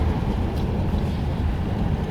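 A 1940 Ford Tudor with freshly repaired carburetor and exhaust idles steadily, a low, even rumble that holds constant throughout without revving.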